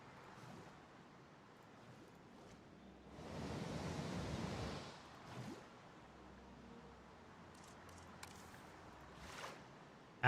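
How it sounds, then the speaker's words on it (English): A waterfall in the dinosaur park-building game Jurassic World Evolution gives a soft, steady rushing hiss that swells for about two seconds mid-clip and then fades, with brief faint whooshes afterward. "that's more waterfall than I wanted"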